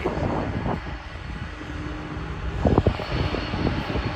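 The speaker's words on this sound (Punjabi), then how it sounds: "ਇੱਧਰ ਵੱਡਾ ਜਹਾਜ਼ ਇਹ ਚੜਨ ਲੱਗਿਆ" A large airliner climbs out over the Toronto Air Show at night, its engines giving a steady, moderately loud roar that swells slightly toward the end, heard without talk.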